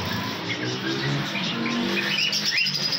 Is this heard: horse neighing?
no